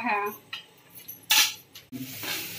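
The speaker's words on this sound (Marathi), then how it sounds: "झाकण ठेवलेलं होतं ना, ते काढलं मी आता हे मसाले लागण्यासाठी." A metal lid lifts off a pan of frying bitter gourd, giving a few close clinks and scrapes of metal against metal, followed by a soft sizzle.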